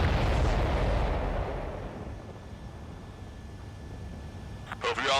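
A supply ship explodes in the Ace Combat 7 video game, with a heavy, rumbling blast that fades into a lingering roar, followed by a faint crackle near the end.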